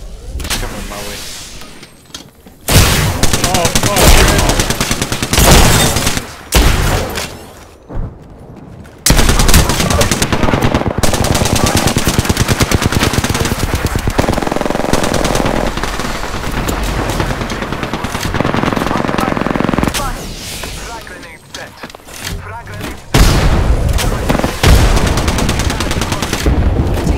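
Sustained bursts of automatic machine gun fire in the battle game Apex Legends, loud and nearly continuous with brief pauses, rapid rattling shots dominating the mix throughout.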